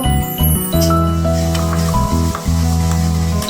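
Chicken roast being mixed with yogurt and spices in a pot, with loud close sizzling and stirring over a steady tonal hum that breaks off briefly a few times; no one speaks.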